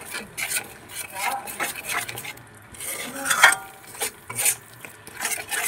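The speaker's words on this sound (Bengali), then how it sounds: "মশলাটাকে ভালো করে ফেটিয়ে নেব আমি" Spice paste for a fish curry is whisked with a utensil in a bowl, making repeated close scraping and clinking strokes in an uneven rhythm.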